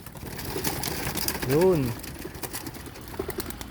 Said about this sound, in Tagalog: Ayan, bubuksan ko na mga kalapatids.